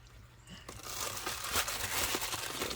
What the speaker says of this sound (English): so we'll just cut it open.